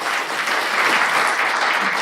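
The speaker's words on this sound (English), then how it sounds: "let's give a round of applause for Michelle Bennett" A small business workshop audience claps for a speaker being introduced, a loud, dense and steady applause from a roomful of people throughout.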